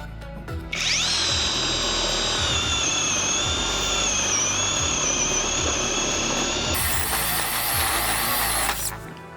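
An ELTOS cordless drill bores with a 20 mm bit at second speed: a loud steady high motor whine with grinding underneath that runs almost the whole time, rising in pitch near the end before stopping.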